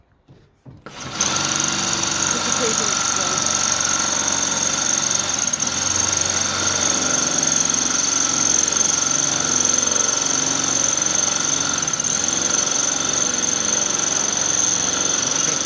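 A power drill fitted with a hole saw grinds through a porcelain cup: the motor starts up, then runs as a loud, steady high whine with a gritty abrasive edge, unbroken throughout.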